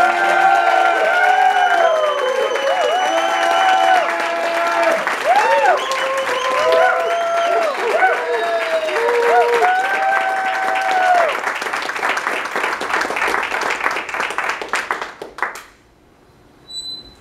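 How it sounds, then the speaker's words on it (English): A poetry festival audience applauds and cheers for a youth poet laureate, dense sustained clapping with whoops and bright shouts rising over it, loud and close, fading out abruptly near the end. "So please clap it up for"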